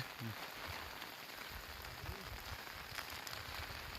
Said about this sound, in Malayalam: മഴയുണ്ട് കേട്ടോ